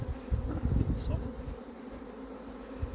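Honey bees crowd a hive, feeding on pollen, giving a steady low buzzing hum that swells and dips, with a faint voice in the background.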